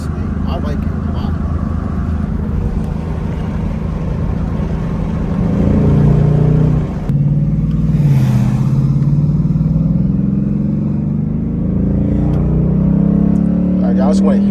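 A Ford Mustang S550 Mach 1 V8 rumbles loud and close from inside the moving car, its deep drone rising and falling as the driver eases on the throttle, with a person talking over it.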